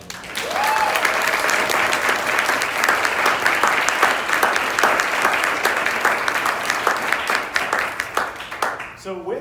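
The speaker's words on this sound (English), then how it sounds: "let's give Mike a round of applause" Volunteers at a food program meeting give a sustained round of applause lasting several seconds, dense steady clapping filling a room before fading out at the end.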